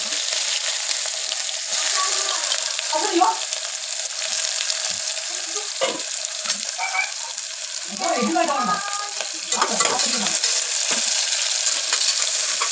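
A single cinnamon stick, two cloves and onion dropped into hot oil for a Chettinad mutton gravy, sizzling and crackling steadily with bursts of stirring and frying louder in the middle.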